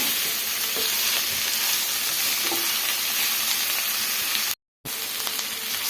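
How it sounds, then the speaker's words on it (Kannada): Onions fry in oil for onion chutney, filling the pan with a loud, dense, continuous sizzle that cuts out for a brief moment near the end. "ಕೆಂಪಿಗೆ ಹುರ್ಕೊಳ್ಳೋಣ ನಾವು."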